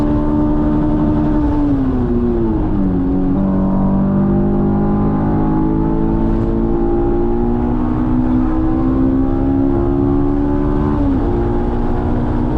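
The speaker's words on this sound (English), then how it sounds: "So here's some highlights from session 2." A Honda S2000 engine roars steadily at high revs on the Watkins Glen race track, pitch dipping and climbing as it shifts gears and works through corners.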